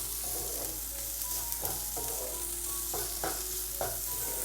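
Noodle masala sautés in a pan with a steady, close sizzle, while a utensil stirs and scrapes repeatedly in short bursts over it; no voices are present.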